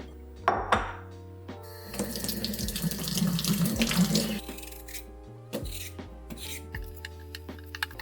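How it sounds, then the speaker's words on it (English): Potatoes are washed under a running kitchen tap before peeling, with water splashing loudly into a sink between rubbing, knocking sounds as the potatoes are handled. Close and alone. "the first thing that we're going to do is wash and peel them."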